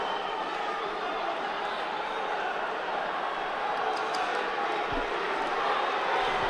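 Home crowd roaring at a judo Grand Prix in Tbilisi, a loud, steady wall of cheering filling an indoor arena, with a commentator's voice faintly mixed in.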